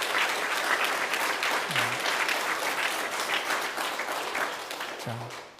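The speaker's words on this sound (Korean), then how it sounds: "자기 자신을 위해서 한번 박수 한번 크게 쳐주시기 바랍니다." Congregation at a Sunday worship service in a Methodist church applauds, with sustained, even clapping filling the room and a short spoken word breaking in briefly near the start and again near the end.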